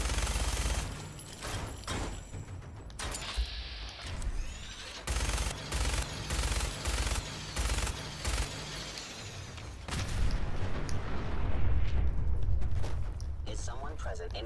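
Fallout 4 combat with gunfire and explosions, where loud rapid bursts and heavy booms come and go in a dense, chaotic mix under a person's voice speaking.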